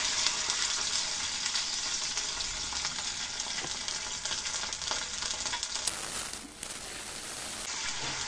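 A ground paste of onion, garlic, ginger, cumin and green chili fries in a pan with a little water for a pigeon curry, giving a continuous close sizzle that briefly dips before resuming.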